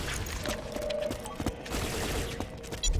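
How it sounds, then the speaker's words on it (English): Auto cannons fire in the Borderlands 2 video game, a rapid string of sharp, punchy bursts layered over a dense, noisy battle backdrop. "Stop those auto cannons, Slav!"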